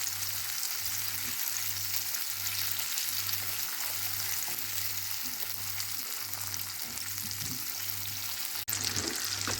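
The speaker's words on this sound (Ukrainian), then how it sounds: "Зараз вмішуємо вершкове масло у карамелізований цукор." Butter is stirred into caramelized sugar in a pan for banana buns, giving a steady close sizzle and bubbling hiss with soft stirring, over a regular low pulsing hum and no talk.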